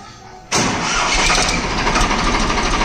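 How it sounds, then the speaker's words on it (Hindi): A tractor's diesel engine cranks and catches abruptly, then settles into a loud, steady, rumbling idle close by. "देख सकते हो क्या शानदार आवाज़ है ट्रैक्टर की"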